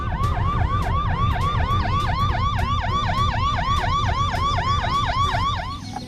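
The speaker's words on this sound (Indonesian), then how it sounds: "Ini mobil ambulan." Rapid wailing toy ambulance siren, a loud, close electronic yelp repeating steadily over a buzzing low rattle, with no talking.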